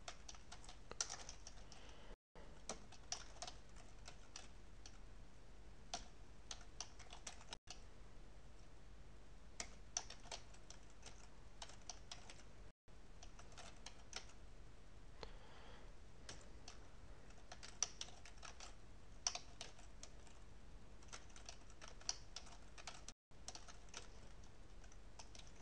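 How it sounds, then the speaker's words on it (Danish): Quiet, steady typing on a computer keyboard throughout, with rapid soft key clicks and a few brief pauses, heard alone with no talking. "Og så skal vi egentlig bare have tastet den ind."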